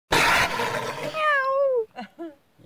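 A person vocally imitates a cat's meow to scare off a jaguar during a winter fishing trip: a drawn-out, rising-then-falling meow follows a burst of broadband noise, then two short yowling syllables, close and fairly loud.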